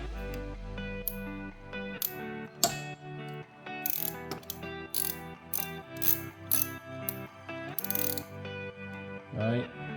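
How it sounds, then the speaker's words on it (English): A 10mm socket on a ratchet tightens the spark plug coil bolts on a 2012-2016 Honda CR-V, giving off bursts of quick, close metallic clicks in short runs separated by brief pauses. "Now we're gonna get our 10mm socket out and tighten all these down."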